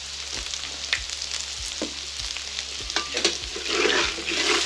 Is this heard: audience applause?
no